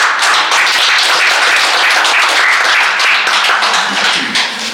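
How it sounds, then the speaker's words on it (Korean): An audience at an academic history conference claps warmly for a presenter, a dense, sustained burst of applause filling the hall. "경목대학교 이인철 부총장님의 한국사 정립 방안이라는 논문을 큰 박수와 함께 청해 듣도록 하겠습니다."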